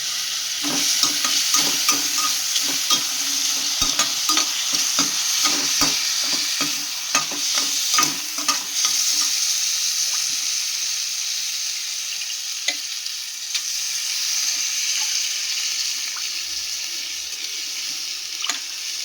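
Rice is stir-fried in a pan for corn biryani: a continuous bright sizzle with rapid spatula scrapes that are busy early on, then settle into a steadier frying hiss.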